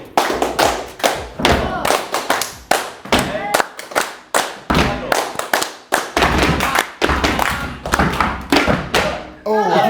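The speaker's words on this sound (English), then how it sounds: "We're doing a clapping for you guys." A group of people claps together in steady, loud rhythmic bursts, the sharp claps close and dense throughout with brief pauses between rounds.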